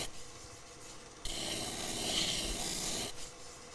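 Sandpaper rubbing along the grain of a spinning ambrosia maple bowl on a lathe: a quiet background hum, then an abrupt, steady raspy hiss that starts partway through, holds for a couple of seconds and fades out.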